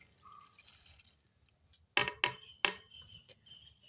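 A herbal spice mixture tipped into a vessel while making a njavara rice dish, heard as three sharp, close splatting knocks in quick succession against a quiet room.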